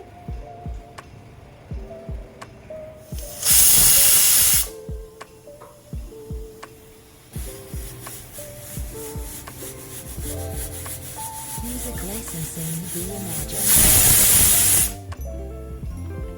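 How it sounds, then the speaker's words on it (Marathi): Two loud, hissing pressure cooker whistles over a medium flame, each lasting about a second, roughly ten seconds apart, with light kitchen clatter in between. "दोन शिट्ट्या झालेल्या आहेत"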